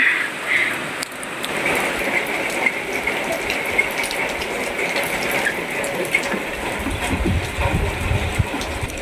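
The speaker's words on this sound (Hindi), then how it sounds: "ये देखो कितनी तेज बारिश पड़ने लग गई।" Steady, dense rain pouring down, a continuous broadband hiss with scattered patters and drips, no voices present.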